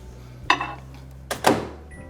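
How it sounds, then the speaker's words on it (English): A microwave oven softening butter hums low and steadily, interrupted by two sharp clunks about a second apart, like the door or buttons being handled, all close by and fairly quiet. "Let's get that in the microwave quick."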